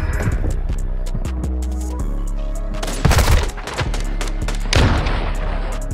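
Video game gunfire: a couple of loud, sharp bursts of shots cutting through a steady low hum, the first burst stronger and the second shorter.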